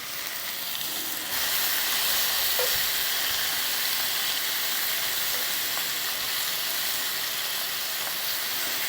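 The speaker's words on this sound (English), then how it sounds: "We'll end up fixing the bacon first, cooking it" Five halved pieces of bacon fry in a pan, a steady broadband sizzle that jumps louder after the first second and then holds evenly, close by, with no one speaking.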